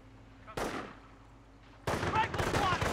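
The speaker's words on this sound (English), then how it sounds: "Rifle squad taking fire!" Gunfire rakes a rifleman squad in the Company of Heroes video game: a first burst of shots is followed by a brief lull, then dense, loud rapid automatic fire that carries on to the end.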